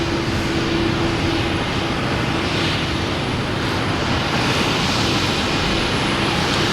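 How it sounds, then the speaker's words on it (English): A helicopter flies near Boston Logan Airport, a loud, steady rotor and engine drone with a constant low hum that fills the whole stretch without letting up. "Oh, just a helicopter. That's what it is."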